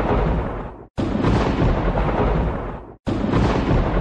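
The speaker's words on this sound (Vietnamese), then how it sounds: "mình đã thả bình sấm sét để phá trụ phòng không và tháp pháp sư" Lightning spells from a Clash of Clans attack strike air defenses and a wizard tower, heard as loud, broad thunderous crashes in three bursts separated by brief silences, with no talking.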